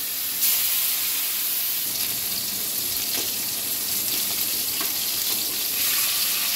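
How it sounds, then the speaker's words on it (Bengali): Fish fries in a wok of hot oil seasoned with turmeric, giving a loud, continuous hissing sizzle up close, broken by a few sharper spits and crackles. "মাছটা এক পিঠ ভাজা হয়ে গেছে, এবার আমি এটাকে উল্টিয়ে দেবো সুন্দর করে।"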